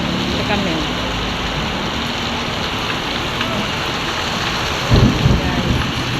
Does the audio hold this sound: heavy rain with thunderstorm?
yes